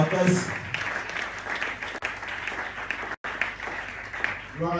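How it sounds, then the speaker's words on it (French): Church congregation at a Sunday worship service applauding and cheering loudly on request, a dense, sustained wash of clapping mixed with voices that carries on across the whole moment, with a brief dropout near the end. "Est-ce que tu peux acclamer très fort pour les amis?"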